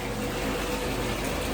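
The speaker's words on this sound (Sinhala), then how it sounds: "ටබ් එකට වතුර සම්පූර්ණයෙන්ම පිරෙන්න දානවා" Water pours into a bathtub during an ice storm, a steady, soft gushing and filling sound, even and moderately quiet with no voices.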